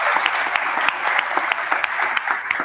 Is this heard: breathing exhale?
no